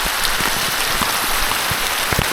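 Heavy rain pours steadily onto surfaces, a dense, loud, unbroken hiss with scattered nearby drops pattering throughout.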